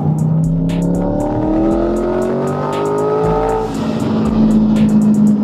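A C8 Corvette's engine, modified to make about 650 wheel horsepower, revs loudly and close on a downshift, its pitch sweeping and dropping as it blips through gears, with a rumbling exhaust underneath.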